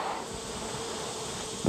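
Honey bees buzz outside a hive during an oxalic acid vapour treatment for mites, forming a steady, fairly faint droning hum with no voices.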